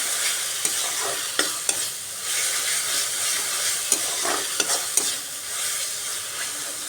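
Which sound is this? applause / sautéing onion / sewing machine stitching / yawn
sautéing onion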